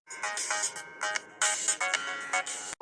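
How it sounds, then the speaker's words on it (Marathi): An outgoing call rings in a cartoon, a bright electronic ringtone repeating in short bursts with brief gaps, loud and close, alone without speech. "आई मी नीता ताईला करते कॉल"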